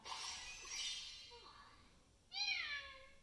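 A Makeblock mTiny robot toy cat plays synthesized meows, a couple of wavering electronic mews followed by a louder, clearer meow near the end, close and fairly quiet.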